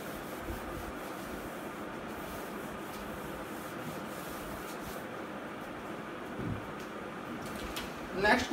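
Classroom board being rubbed clean by hand during a maths lecture, a steady soft scrubbing and swishing that continues for several seconds, fairly close, ending with a brief louder knock.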